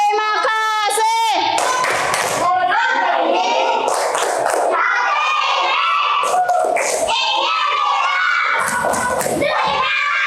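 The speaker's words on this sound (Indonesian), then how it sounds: "Tepuk terima kasih." A class of young children in a school lesson join in a rhythmic thank-you clap, their hand claps mixed with loud chanting and shouting voices throughout.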